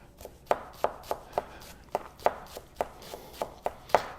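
A yanagiba knife slicing on a cutting board, a crisp run of about a dozen close knocks of the blade meeting the board in a fairly regular rhythm, with no voice over it.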